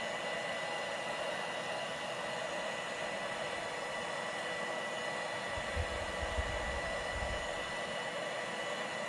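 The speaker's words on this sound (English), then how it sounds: "Let me just try to see if I can use the heat gun to make sure that it's" A heat gun on low heat blows a steady, even hiss of air while a dbrand skin is applied to a Nintendo Switch OLED, close and constant with a brief low rumble of handling partway through.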